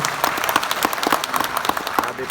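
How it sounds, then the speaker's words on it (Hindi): An audience claps energetically in dense, rapid applause, with loud voices and talk mixed through the clapping. "तो जोरदार ताली नारी शक्ति के लिए बजनी चाहिए।"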